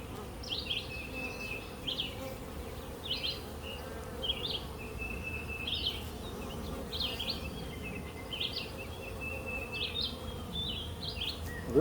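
Honeybees from an open beehive colony hum in a dense, steady drone, with individual bees buzzing close by in short passes throughout, and no talking.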